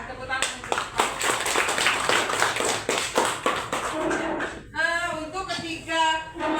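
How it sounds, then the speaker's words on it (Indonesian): Sixth-grade classmates clap for a student in a classroom, a quick burst of brisk, rhythmic claps for several seconds, then a voice speaks over the fading claps. "Tepuk tangan untuk Faika."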